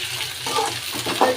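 Sliced onions and torn dried red chillies with seeds sauté in a pan for chicken uppu kari, giving a steady soft sizzle with a few light stirring scrapes of a utensil against the pan.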